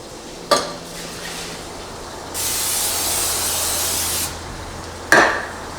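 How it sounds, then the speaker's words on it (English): A sharp clack, then a sustained spray hiss lasting about two seconds, followed by another clack. "I got a special spray"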